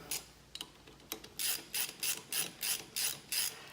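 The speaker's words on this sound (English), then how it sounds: "you just hand tighten them all until we need the ratchet" Ratchet tightening the bolts on a pressure washer pump, evenly drawing the pulley off; several quick scattered clicks give way to about eight steady, loud rhythmic ratcheting strokes, close up with no talking.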